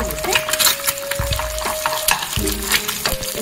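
Two eggs seasoned with pepper and salt being stirred and fried in a pan, with steady sizzling and repeated scraping strokes of a spatula, close and fairly loud, no talking.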